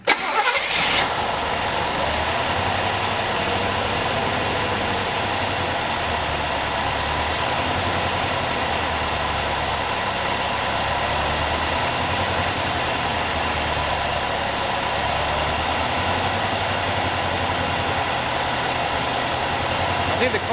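A Buick LeSabre V8, sitting unused for 34 years and running on a faulty carburetor, starts and then idles steadily with a low, surging engine rumble close by, continuous for about twenty seconds.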